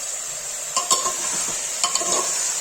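Onions with salt are stirred in hot oil in a pan for matar aloo curry, with a steady loud sizzle underneath and a few sharp scraping knocks of the spoon against the pan.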